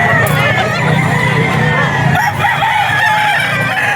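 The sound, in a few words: gamefowl stag rooster crowing at pet market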